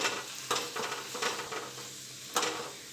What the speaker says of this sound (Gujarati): હવે આપણી પાલક સરસ સંતળાઈ ગઈ છે।